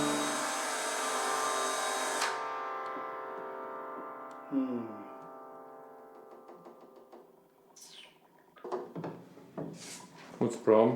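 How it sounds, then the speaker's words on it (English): A power drill whines loudly and close while a piano is being taken apart, then cuts off abruptly, followed by scattered knocks, clunks and voices talking. "the drill makes more noise than the piano does"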